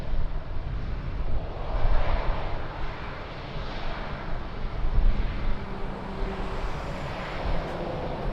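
Airliner taking off from runway 02 at Lisbon Airport on a windy day: a steady, broad engine roar that swells and eases slightly, heard from a distance and mixed with wind noise, with no voices.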